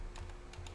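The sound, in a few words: typing on mechanical keyboard with silent linear switches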